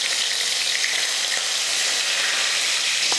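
Mustard seeds and curry leaves sizzle in hot oil in a kadai on a stove, a close, loud, steady crackling fry with dense hissing and occasional pops, no voices.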